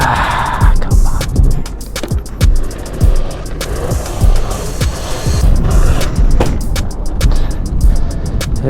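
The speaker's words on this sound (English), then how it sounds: "That is day one of learning how to wheelie a Razer MX 650." Modded 72V Razor MX650 electric dirt bike ridden in wheelie attempts, with wind buffeting, tire and ground rumble and repeated bumps and thuds, loud and close throughout.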